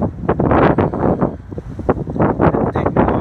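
Gusty wind buffets the microphone outdoors on a windy day, a loud rumbling roar that surges and dips in repeated bursts throughout, with no other clear sounds.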